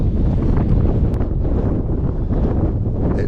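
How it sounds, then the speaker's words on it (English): Strong wind blows across a hilltop overlooking the Bristol Channel, roaring loudly and steadily against the microphone with no voices. "It's a bit windy on Wayne's Hill."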